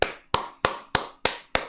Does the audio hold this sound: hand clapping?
yes